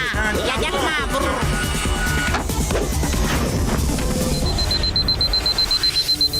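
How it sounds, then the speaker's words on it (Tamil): Steady, evenly spaced ticking in a Motu Patlu cartoon scene, emerging clearly toward the end after a busy stretch of music, voices and crashing effects. "இந்த டிக் டிக் சத்தம் எங்க இருந்து வருதாப்பா?"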